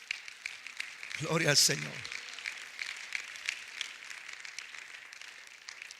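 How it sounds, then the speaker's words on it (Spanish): A church congregation applauds steadily with a dense patter of clapping, while someone speaks briefly in Spanish over it near the start. "Dele un aplauso al Señor en esta hora"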